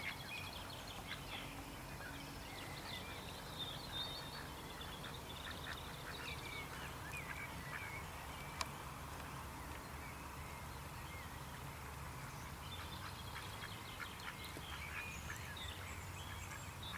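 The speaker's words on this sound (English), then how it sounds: "There's the water hens." Waterbirds call steadily on a local pond, a busy chorus of duck-like quacks and short calls from moorhens near the water, with faint background noise and no talking.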